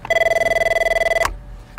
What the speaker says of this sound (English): The phones were ringing constantly.